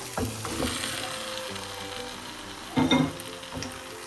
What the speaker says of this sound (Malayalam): മാരിനേറ്റ് ചെയ്ത് വെച്ച ചിക്കൻ ചേർക്കാം